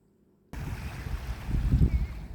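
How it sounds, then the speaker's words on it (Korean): Sea waves at the Fukuoka, Japan waterfront wash in as a steady broadband surge after a brief quiet start, swelling louder near the end with no voices. "바다 소리도 들어봅니다"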